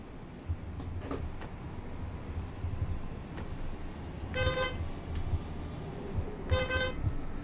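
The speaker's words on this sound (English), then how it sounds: "That horn sounds like a clown horn." Bus horn in the OMSI bus simulator video game, a thin car-like toot sounding twice in short honks over a steady engine rumble and road noise.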